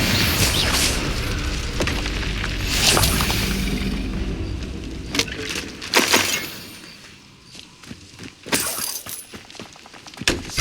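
Spell blasts from Incendio and Confringo in the Hogwarts Legacy video game, heard as a series of loud, crackling impacts and shattering bursts, with a sustained fiery rush early on and scattered sharp hits later.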